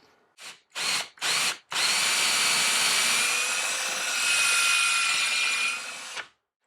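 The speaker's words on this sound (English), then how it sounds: "Well, it certainly managed to drill the hole" Power drill boring a hole through a UJK drill guide, starting with three short trigger bursts, then a steady high whine for about four and a half seconds before stopping abruptly.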